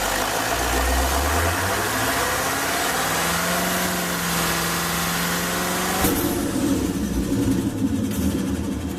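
A 2013 GMC truck engine revs up from idle and holds a steady high pitch, then cuts off abruptly near the end and winds down. No one speaks.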